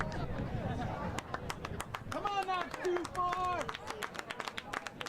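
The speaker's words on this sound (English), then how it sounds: "Wildcat faithful cheering for Cassie Turner" Wildcats supporters at a girls' varsity soccer match in Eagan against Burnsville cheer and clap in a steady patter of applause, with crowd voices rising in the middle and an announcer talking over it.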